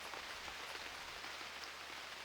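Steady rain falls in the survival video game UnReal World, a continuous even hiss of drops on a snowy landscape with no voices, at a low level throughout.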